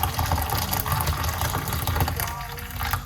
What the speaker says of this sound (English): I'm going to pour some hot water.